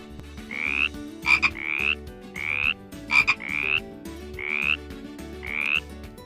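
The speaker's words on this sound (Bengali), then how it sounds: "কিন্তু এদিকে ব্যাঙেরা সমানে চেঁচিয়ে যাচ্ছে" Frogs croak in repeated rhythmic bursts, several calls overlapping with steady chirping pulses, fairly loud and close with no voices.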